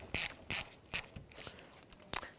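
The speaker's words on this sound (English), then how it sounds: "We'll use a 10mm socket, our extension and ratchet to go ahead and loosen the 10mm nut here." A ratchet with an extension and 10mm socket loosens a nut under the hood of a 2011-2015 Kia Sorento 2.4L, giving several short, sharp clicking bursts spaced unevenly, close and crisp in otherwise quiet surroundings.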